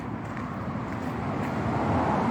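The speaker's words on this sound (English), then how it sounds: "there's a main road there and you can hear the cars going past" Cars passing on a nearby main road, a low, continuous traffic rumble with a soft rushing wash, steady and moderately distant with no talk.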